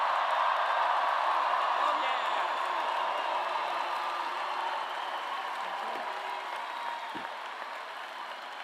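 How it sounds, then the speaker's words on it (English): A large commencement crowd at a spring university bachelor's ceremony cheers and applauds loudly, a dense steady wash of clapping and whoops that slowly tapers, with a brief voice heard over it. "Let's make it the loudest when we cheer."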